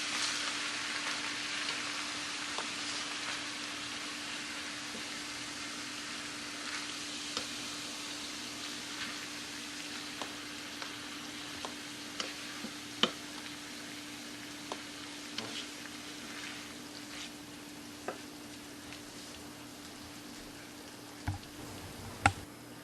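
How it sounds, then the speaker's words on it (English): Filling for keto stuffed bell peppers gives a steady, gentle sizzle in a pan on residual heat after the burner is off, with a faint hum and scattered small pops and ticks near the end. "Sizzle it a little bit."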